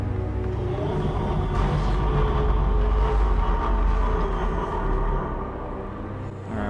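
A deep, heavy rumble from a large monster in Dead Space 3 rolls on steadily and loud throughout, with low growling texture that eases slightly near the end.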